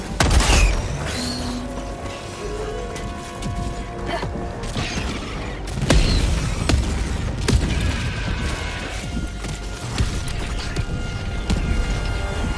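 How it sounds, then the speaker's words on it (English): An orbital barrage in Helldivers 2 sends heavy booming explosions through a dense, continuous wash of game noise, with a strong blast near the start and another around the middle. "Orbital barrage incoming."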